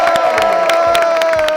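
A crowd cheers, whoops and shouts loudly at a $100 bid during a lively island auction, with children's voices mixed into the steady roar and bursts of clapping-like accents throughout.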